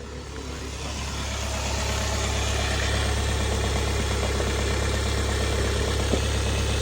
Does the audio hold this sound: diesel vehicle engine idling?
yes